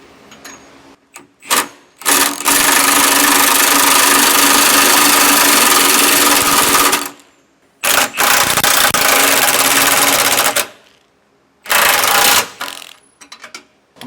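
An impact wrench runs down lock nuts on a MORryde cushioned pin box of a 2021 Grand Design fifth wheel RV, loud close bursts of rapid rattling hammering lasting several seconds each, separated by short pauses and a few brief taps.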